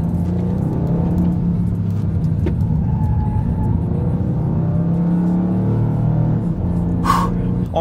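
A Toyota GR Yaris with an automatic gearbox drives along, its engine a steady, loud, continuous rumble and whir from inside the car with no break in level.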